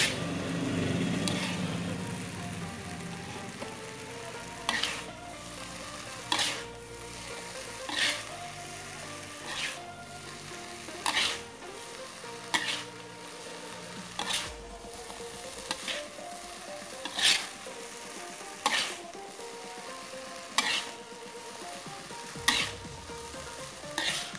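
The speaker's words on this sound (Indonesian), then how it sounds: "Diaduk-aduk sampai merata." Jalang kote (pastel) filling is stirred and spread in a sizzling pan, a steady frying hiss broken by regular sharp scrapes of the spatula roughly every second or two, close up with no voices.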